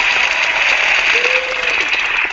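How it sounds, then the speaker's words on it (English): An audience at a school district's end-of-year awards show applauds Bannon Creek. Loud, continuous clapping carries through with a steady hiss-like wash and a brief tonal note partway through. "Big round of applause for Bannon."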